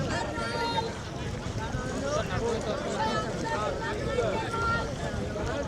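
A fishing trawler pulls in at a riverside fish-market ghat, its steady engine drone and water wash forming a continuous broad rumble with gusts of wind across the microphone, busy market voices faint in the background.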